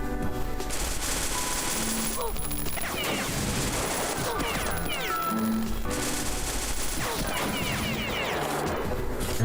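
Rapid video game gunfire from several weapons including a sniper rifle, dense bursts of shots with crashes and impacts filling the whole stretch, loud and close.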